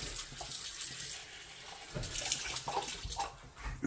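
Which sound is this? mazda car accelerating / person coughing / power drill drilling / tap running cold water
tap running cold water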